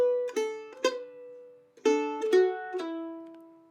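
A mandolin plays the final measure of a Nine Pound Hammer break, with hammer-ons, pull-offs and a slide. It is a short, close, solo phrase of a few plucked notes that ring and decay, and no one speaks over it.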